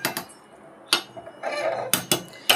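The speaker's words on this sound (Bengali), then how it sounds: "ঢাকনাটা খুলে দেব।" Metal lid lifted off a simmering fish curry pot with papaya, potato and raw banana, sharp clanks and clinks at irregular intervals around a brief burst of bubbling, close and fairly quiet.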